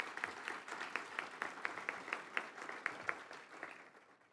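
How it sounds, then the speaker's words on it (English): Audience at a college awards ceremony applauds in a steady, dense patter of clapping that fades out toward the end, heard in a large room. "Let's give that group a round of applause as well."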